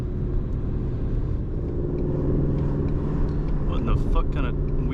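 A Chevrolet C8 Corvette Stingray drives with a continuous low engine rumble and road noise, steady throughout with a few faint higher clicks near the end.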